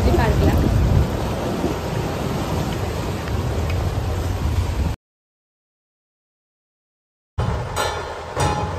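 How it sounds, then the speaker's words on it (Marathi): Night rain falling in Mumbai, a dense close patter and wash of heavy rain with low rumbles, interrupted by a stretch of total silence before the downpour resumes. "पाऊस सुरूच आहे"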